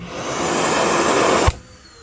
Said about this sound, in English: Oh, this is your vacuum. So when you're sweeping, it'll just suck it right down.